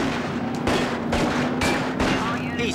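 Gunfire in the Starsky & Hutch video game: a run of sharp, loud shots and bursts spaced roughly half a second apart over a steady noisy background.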